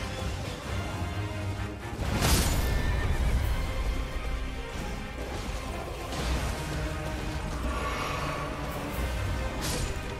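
A horse in the video game Elden Ring neighs loudly amid clip-clopping hooves and thuds, with game-like whooshes and impacts throughout.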